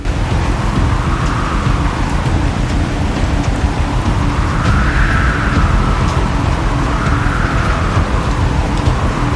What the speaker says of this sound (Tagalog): Talaga namang hindi na huminto ang ulan at tuloy-tuloy pa.